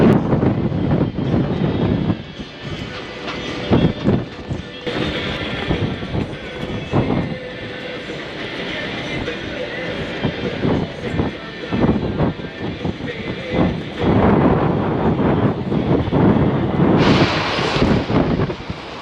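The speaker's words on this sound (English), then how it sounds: "we're starting to get these big bands off the wind, lots stronger winds" Strong gusting winds from Hurricane Helene roar across the microphone in a loud, continuous rumble that surges and eases in waves, building to a heavier blast toward the end.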